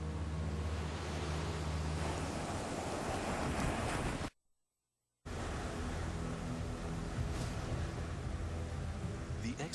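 Loud, continuous roar of Grand Canyon river rapids and rushing whitewater around an expedition boat, with wind buffeting the microphone; the sound cuts out completely for about a second midway, then the churning water resumes.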